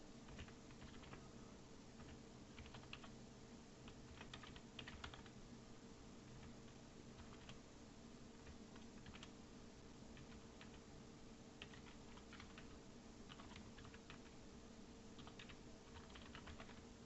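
Quiet, faint typing on a computer keyboard, with irregular clusters of soft key clicks over a low steady background hum.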